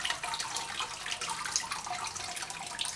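Water drains steadily through a paper-making mould while a fresh sheet of recycled paper is formed, making a soft continuous trickle and hiss, close and without talk.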